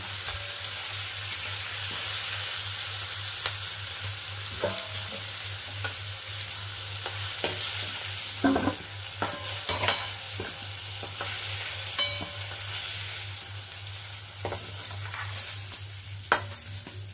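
Chopped vegetables frying one batch at a time in a kadai, with a steady loud sizzle and intermittent scraping stirs and spatula clicks throughout.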